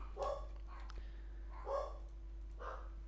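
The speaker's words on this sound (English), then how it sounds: "What are they barking at?" Several domestic dogs bark in three short bursts, muffled and somewhat distant indoors, over a steady low electrical hum.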